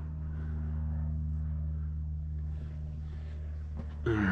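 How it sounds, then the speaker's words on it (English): A low, steady aircraft drone from Redmond Airport hums at a distance, heard from inside a cave, with a sharper noise at the very end. "Noise from Redmond Airport."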